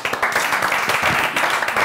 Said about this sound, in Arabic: تحيه الجمهور